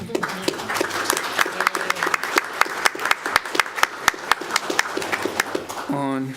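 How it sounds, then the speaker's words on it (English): Audience applause at a school district board meeting, a moderate scattering of sharp claps with a few louder hits running several seconds; a brief voice-like tone rises near the end. "That's worth a clap."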